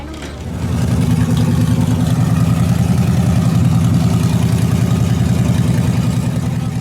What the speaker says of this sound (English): facing Sam from Ohio and his small block Chevy Nitrous S10 truck.